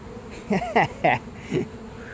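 A steady hum of a large swarm of honeybees buzzing fills the background during bee removal from a mobile home in Lakeland, Florida, while a person speaks a few short phrases over it.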